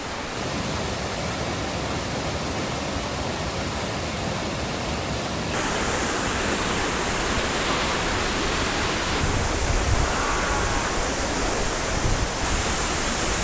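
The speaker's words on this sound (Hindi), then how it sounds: "पानी कितनी तेज़ी से गिर रहा है" Vasundhara waterfall at Bhandardara in Maharashtra, a tall fall dropping from a good height, roars steadily and close, its dense broadband rush unbroken for the whole stretch with no voices.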